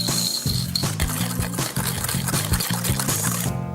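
Whisk working egg yolks and sugar in a mixing bowl for pastry cream, a rapid wet clattering rhythm that stays close and steady throughout, with music playing underneath.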